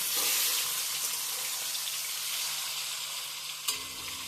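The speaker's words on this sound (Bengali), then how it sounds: "এবার ফ্লেমটাকে হাই করে আমি মাছগুলো ভেজে নেব" Katla fish pieces fry in oil over a high flame with a constant close sizzle, one brief knock near the end as a piece is turned over.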